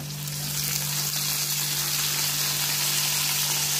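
Onions and tomatoes frying together for a Kenyan fish stew give a steady sizzle that rises and then holds evenly over a low constant hum, with no talk.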